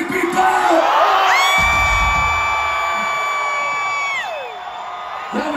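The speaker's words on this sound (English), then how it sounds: "Y'all do me a favor and scream, cause it feels so fucking good! Scream, people!" Concert crowd screaming and cheering loudly in a large venue, a sustained roar of shrieks and whoops with high sustained screams, fading slightly near the end.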